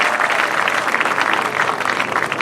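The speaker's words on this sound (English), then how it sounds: "Round of applause for Tony Kauff." A round of applause from an audience at a ceremony honouring a 1994 state champion boys basketball team, dense steady clapping throughout at even loudness with no talk.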